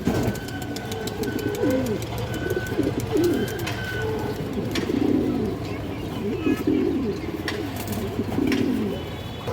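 A female pigeon coos repeatedly in soft throaty phrases close by, under a constant low hum, with a voice faintly in the background.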